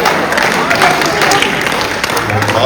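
An audience at a Hindi kavi sammelan poetry gathering claps steadily, a dense, even wash of applause that carries through the short stretch without pause.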